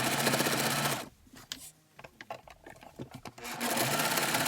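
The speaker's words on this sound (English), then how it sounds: "So I'm going to fold that over and then sew right along." A sewing machine stitching along a folded fabric liner for a framed storage box: a loud, steady whir that stops for about two seconds, leaving small clicks, then runs again.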